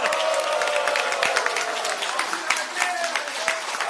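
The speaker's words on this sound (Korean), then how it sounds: "이 방이 떠나갈 정도로 정청래 대표님께 그 얘기- 감사의 박수" Steady applause of thanks from an indoor audience at a Korean political party event, many hands clapping at a constant level with a murmur of crowd voices and faint talk underneath.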